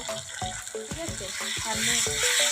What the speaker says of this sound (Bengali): দিয়ে এবারে ভালো করে কষিয়ে নেব